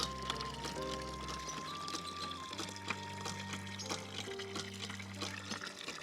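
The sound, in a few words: water pouring from a hand pump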